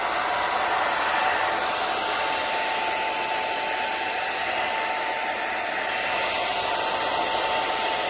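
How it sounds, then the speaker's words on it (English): A hair dryer blowing paint across a canvas roars steadily and loudly close to the microphone, a constant whooshing blow with a faint whine that never lets up. "I'm gonna blow it out with my handy dandy painting blow dryer"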